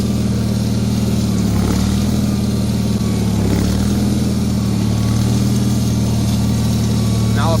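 A snow blower engine runs steadily at a loud, close drone while it clears hard-packed snow, with the blower locked down and chains on, the tone shifting slightly under load.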